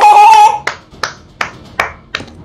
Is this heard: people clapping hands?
yes